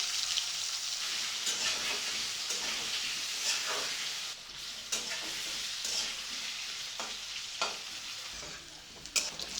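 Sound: potatoes frying in oil on medium gas flame

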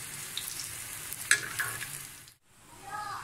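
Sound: beef shami kababs frying on a griddle

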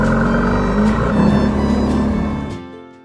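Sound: car engine, hybrid car

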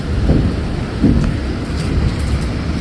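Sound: tropical downpour with thunder

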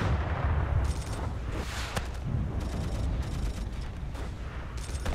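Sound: explosions and gunfire in Battlefield 1942 video game

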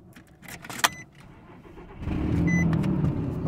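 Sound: Nissan engine running loud with sensor removed

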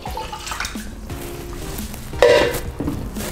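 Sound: pouring a liter of water into a pot

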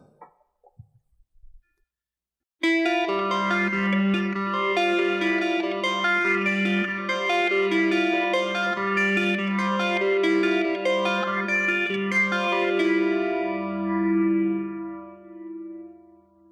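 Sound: electric guitar through Line 6 Helix with phaser, rotary vibe, delay

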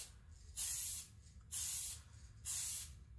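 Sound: spray painting a lexan RC car body

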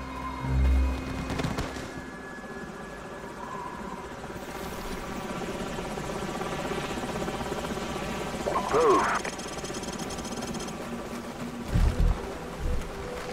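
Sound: enemy helicopters in video game Call of Duty 4

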